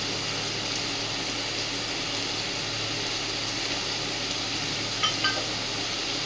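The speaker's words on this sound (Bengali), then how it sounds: "আগে অল্প করে আলুর পরিমাণে হলুদ গুঁড়ো দিয়ে ভেজে নিচ্ছে" Potatoes frying with turmeric powder in a pan give a steady, soft sizzle that holds throughout, with a couple of faint clinks near the end.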